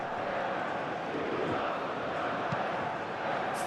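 A stadium crowd roars steadily in the PES 2021 football game during France vs Norway, a dense, continuous wash of cheering that stays loud throughout with no breaks.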